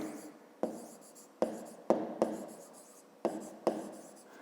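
A math solution being written out by hand, heard as close, scratchy strokes in short bursts with brief pauses between them, no talk.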